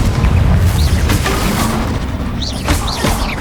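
A Bombarda spell exploding in Hogwarts Legacy, a dense, loud blast with crackling debris and rumble, continuous and close, with sharp magical whooshes layered over the din.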